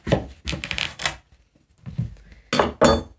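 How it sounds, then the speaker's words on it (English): A knife cuts through a cucumber on a board, making a few close, crisp slicing thuds in irregular bursts separated by short silences. "Cut your cucumber."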